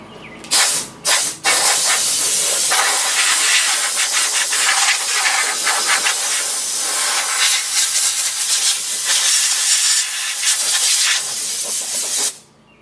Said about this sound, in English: Now if you have an air compressor, go ahead and blow this thing off before you tear into it.